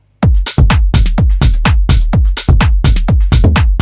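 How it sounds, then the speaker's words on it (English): Punchy, tom-like tech house bass hits bounce in a tight repeating pattern over a steady kick, loud and dry, with short gaps between the thumping notes. "And then the last one is what I like to call the tom bass line."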